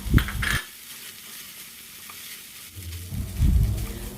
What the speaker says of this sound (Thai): ใส่วุ้นเส้นลงไป และใส่น้ำลงไปเล็กน้อยนะคะ